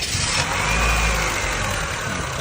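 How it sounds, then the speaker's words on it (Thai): A 2008 Honda Civic 1.8 S engine runs with a steady, loud mid-range drone and a faint whine on top, close by and with no talking. "เดี๋ยวสตาร์ทฟังเสียงเครื่องยนต์กันนะครับ"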